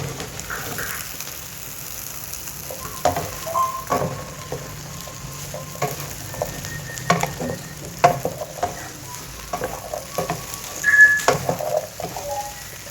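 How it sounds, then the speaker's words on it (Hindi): Okra with onions fries in a pan while being stirred, a continuous sizzle broken by scraping spoon strokes and occasional clinks, heard alone without talk. "अब इसमें भिंडी ऐड कर दें और अच्छी तरह हम इसको मिक्स करके फ्राई करेंगे।"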